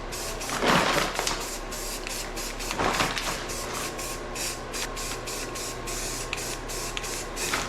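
Spray paint hisses onto a trailer hitch as a light first coat goes on. Two longer bursts are followed by a series of short, rhythmic puffs, all loud and close against a steady background hum.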